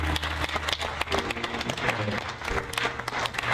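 An audience at the El Dorado Rose Pageant in Placerville, California claps for the Golden Roses, a steady moderate applause with dense clatter throughout, some low background murmur underneath.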